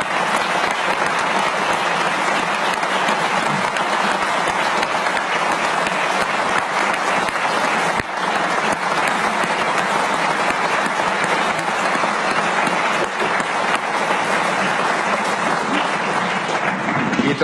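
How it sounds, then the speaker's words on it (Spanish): A large crowd applauds in Venezuela's National Assembly at its installation session, loud sustained clapping that fills the hall without a break for the whole stretch. "pedir un aplauso para el pueblo de Venezuela que ha derrotado y derrotará de manera definitiva la pandemia por COVID-19"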